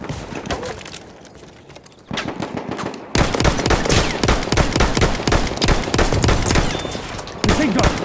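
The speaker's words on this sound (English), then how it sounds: "Machine gun, over there!" Rapid machine gun fire in a team deathmatch video game, bursts growing denser and louder after a quieter opening, with continuous rattling volleys and scattered shots throughout.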